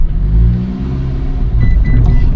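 A Mitsubishi Colt Plus with a faulty speedometer creeps forward inside a garage, giving a steady, close, low engine hum with a slight rise near the end.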